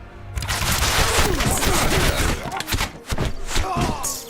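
A volley of gunfire crashes out in a medieval battle scene as infantry advance on a bridge, a dense, loud burst of overlapping shots and thuds over a couple of seconds, then scattered further reports.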